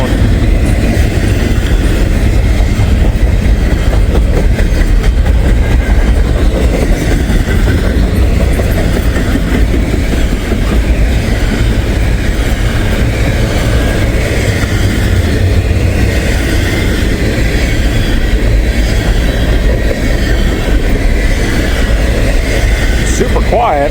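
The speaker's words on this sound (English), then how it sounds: "man, this is a long train." A long freight train of container wagons rolls past close by with a loud, continuous rumble and steady clickety-clack of wheels over rail joints, lasting the whole stretch.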